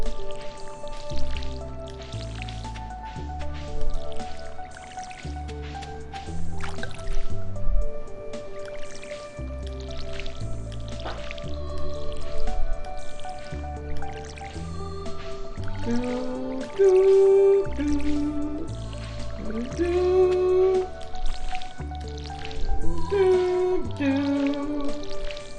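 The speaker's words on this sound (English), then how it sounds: "Water all the plants." A watering can sprinkles crops on a Stardew Valley farm, giving repeated soft splashing and dripping sounds over steady, bright background game music.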